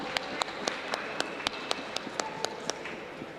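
A sparse, steady patter of clapping greets spelling bee students from 9th grade at a school contest, with sharp individual claps at regular intervals over low room noise.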